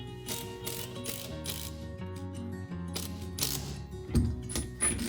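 A power driver screws furring strips into the sides of wooden shelves while a household altar room is built, giving repeated whirring, ratcheting bursts at close range with no talk.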